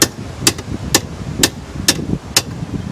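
A sliding door roller is tapped into place with the end of a wooden screwdriver handle, six sharp evenly spaced knocks about half a second apart, close and distinct over faint background.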